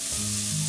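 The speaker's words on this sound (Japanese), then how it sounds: "にんにく、" Garlic sizzling in a hot pan, a short burst of dense, close frying hiss under steady background music.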